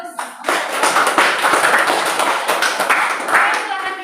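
A classroom group of students applauds a presenting group during a teaching performance assessment, with dense, steady clapping from many hands sustained throughout after a brief pause at the start.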